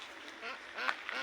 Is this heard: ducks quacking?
yes